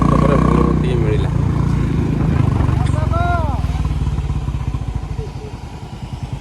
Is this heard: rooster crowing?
no